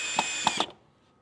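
Three quick bursts of a power drill driving screws into the legs of an 8-foot craps table being assembled, each short whir close and distinct, then silence.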